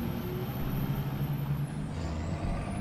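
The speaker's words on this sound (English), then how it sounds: "Sounds like a wheeled vehicle or something." A wheeled armored vehicle, the 2S38, drives in War Thunder, giving a steady low engine rumble with a hissing, brake-like high tone. The sound is continuous and moderately close, with no talking.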